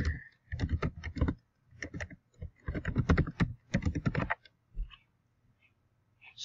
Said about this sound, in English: And then I'll type my email here.